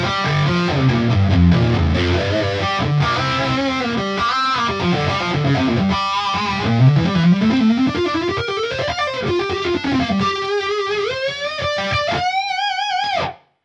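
Electric guitar played through a Line 6 Helix amp model after the 3.5 update, a distorted tone with sliding notes and bends, chords ringing on toward a final held note that cuts off abruptly, with no voices.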